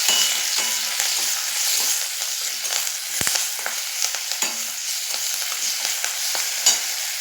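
Peanuts, green chillies and curry leaves fry in a pan for kande pohe, a continuous bright sizzle with frequent scraping and clinking stirs of a spoon, close and steady, with no talking.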